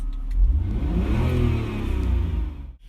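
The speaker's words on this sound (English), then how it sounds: "So just one more rev and then we're going to head off." A Jaguar XJ6 XJ40 engine revs up close and loud, climbing and holding for a couple of seconds before dropping away abruptly at the end.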